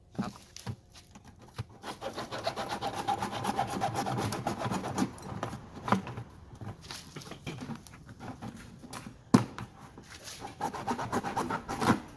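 A hand saw cuts off the bottom of a bucket to make a wet-waste bin. Close, uneven rasping strokes repeat over several seconds, with scattered knocks and short pauses and no talking.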